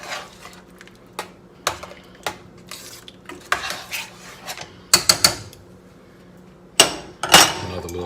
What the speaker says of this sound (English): Give it another little stir up here.